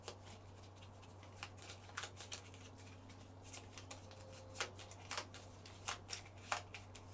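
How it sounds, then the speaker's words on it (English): A deck of bonus cards for a board game is shuffled in short, soft riffling bursts, quiet and close, over a steady low hum. "Shuffle the bonus deck."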